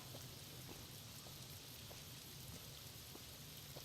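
Steady rain falls in the game Fallout: New Vegas, a faint, even hiss of rainfall with scattered droplet taps, continuous and alone without any talking.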